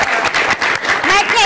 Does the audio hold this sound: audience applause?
yes